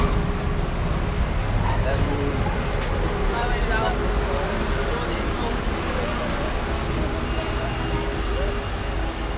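Dense road traffic in Headington, Oxford, with cars, vans and buses: a continuous, loud roar of engines and tyres close by that hardly eases, with faint voices mixed in.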